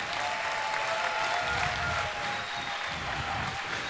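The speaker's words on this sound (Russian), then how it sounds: "И что, вот такие вот просто будут такие жиденькие аплодисменты?" Concert audience applause in a full hall at a chanson festival in Jurmala, steady dense clapping that continues throughout at moderate level with a faint sustained tone underneath.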